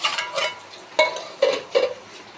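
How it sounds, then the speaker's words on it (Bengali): Potatoes fry in leftover oil from frying luchi in a kadai, a soft sizzle broken by four sharp stirring scrapes and clatters spaced about half a second apart, close and fairly loud, with no talking. "আলু ভেজে নিচ্ছি, এটা লুচি ভাজা তেলটা ছিল সেই তেলের মধ্যে করে নিচ্ছি"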